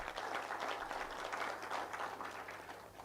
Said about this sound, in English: One round of applause for the PS.